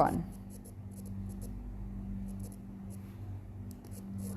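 Pen writing on paper during a Class 9 maths lesson on circles, soft scratchy strokes in short repeated bursts, quiet and close, over faint low background hum.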